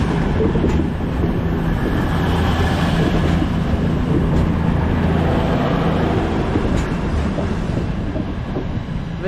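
A Northern train departing Manchester Piccadilly station makes a steady, loud rumble of rolling stock and engine noise, with faint clanks from the platform and no talking.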